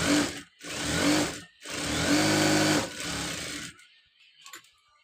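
A sewing machine runs in three loud, close bursts while stitching a uniform coat, each burst a dense mechanical whir separated by brief pauses, ending with a quiet tail of faint handling clicks.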